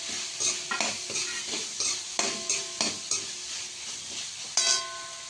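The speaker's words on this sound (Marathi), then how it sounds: "ही थोडं परतल्यानंतर असं परतू द्यायचं थोडंसं." Vegetables and spices for veg pulao sizzle softly in a pan while a spoon stirs them in repeated scraping strokes, each stir adding a brief clatter over the steady frying hiss.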